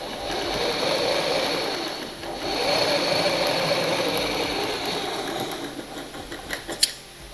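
A sewing machine runs steadily while stitching a fold of baby dress fabric, a close mechanical hum and rattle that briefly dips, resumes, and ends with a few sharp clicks.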